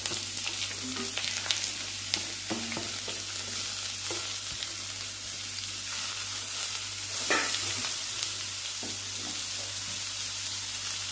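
Chopped raw papaya drops into hot oil with sputtering mustard seeds and curry leaves for a Kerala thoran, a loud steady sizzle broken by scraping stirs and clatters, with no voices.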